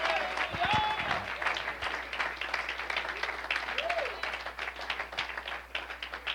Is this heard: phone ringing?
no